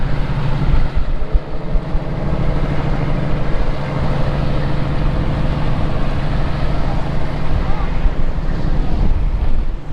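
Strong wind roars steadily across the microphone on a cold Alaskan harbor with fishing boats, a constant low buffeting rumble, with faint voices buried underneath.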